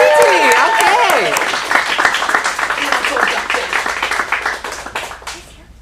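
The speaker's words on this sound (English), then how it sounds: "Give a round of applause." A teen acting showcase audience claps and cheers for a performer, a loud burst of applause that opens with whoops and a voice over it, then thins into scattered clapping and fades out.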